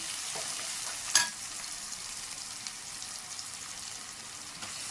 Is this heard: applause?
no